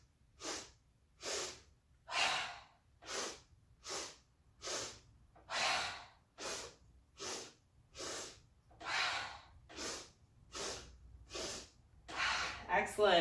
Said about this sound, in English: sips of air through the nose and a big exhale through the mouth